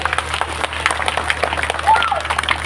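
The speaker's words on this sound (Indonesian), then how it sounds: "Tepuk tangan buat panjenengan." Scattered applause from a seated crowd at a large outdoor Islamic religious gathering, a soft patter of clapping heard at moderate distance over a low steady hum, with a brief voice sound near the end.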